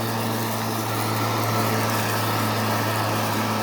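A Greenworks electric lawn mower cuts grass in a yard, giving a steady, close whirring drone with a constant motor hum and no break.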